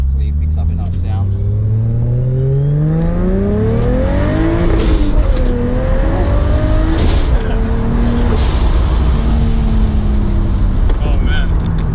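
Toyota Supra with a 2JZ engine accelerating hard during a ride, heard from inside the car as a loud, rising roar that climbs through several gear changes with continuous road and wind noise.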